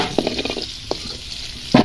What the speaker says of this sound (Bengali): দেখুন লাল লাল করে ভাজা হয়ে গেছে আলুটা